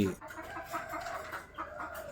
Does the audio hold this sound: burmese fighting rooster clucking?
yes